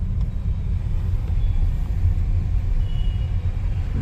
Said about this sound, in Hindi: देखो यहाँ पर भी ट्रैफिक जाम है